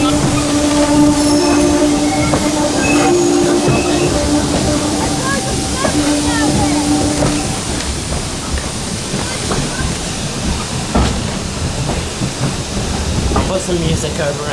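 A Tanfield Railway heritage train rumbles and clatters steadily along the track. Its horn sounds in long sustained blasts during the first half. Voices are faintly heard under the loud, continuous running noise.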